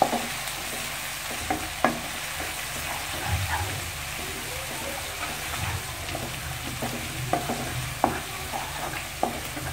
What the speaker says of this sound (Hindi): 2 टीस्पून हमने जो लहसुन अदरक का पेस्ट बना के रखा हुआ है इसको हमने ऐड कर दिया। अब हमें इसको थोड़ा सा भून लेना।